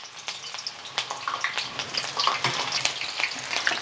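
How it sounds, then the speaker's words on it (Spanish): Chopped onion hits very hot oil in a home kitchen pan and fries with a loud, dense crackle of sharp pops and spatters running steadily throughout, no talking. "Yo voy a ir poniendo la cebolla a dorar."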